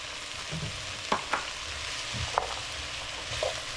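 Chopped carrots being stirred into chicken spaghetti stir-fry in a hot pan, a steady sizzle broken by a few sharp scrapes and clinks of the utensil.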